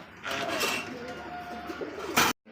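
German Beauty Homer pigeons at a pigeon market coo steadily with soft, throaty calls over a busy background hum, ending in a brief louder burst.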